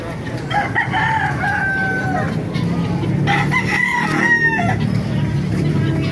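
Roosters crowing at a chicken market in Baliuag, several long crows overlapping against a constant din of clucking fowl and crowd noise, with people talking nearby.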